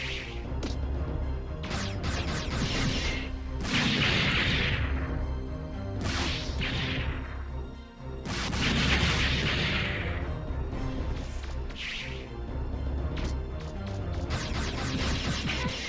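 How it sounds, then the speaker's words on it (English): Beehives being destroyed in Mega Man Legends sound as repeated crashing impacts, whooshes and booming blasts, with loud bursts recurring throughout over a continuous game background. "And just destroying those beehives."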